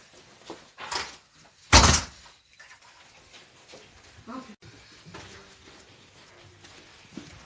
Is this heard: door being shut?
yes